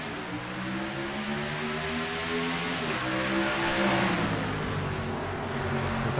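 Sim racing stock cars accelerating in a pack at a green-flag restart at Jukasa, engines rising in pitch together as a dense, loud roar that swells and holds, with no talk.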